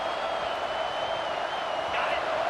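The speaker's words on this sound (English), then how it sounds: "Listen to this crowd just shaking the girders of this place, trying to help their defense." A dense, steady roar of a football stadium crowd at a Texas versus Georgia game, cheering loudly to help the defense, a continuous wash of noise with no breaks.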